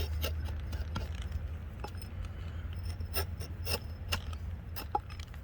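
A Trail Boss axe scrapes bark off a stick in a series of short, uneven rasping strokes, close and fairly quiet over a low steady hum.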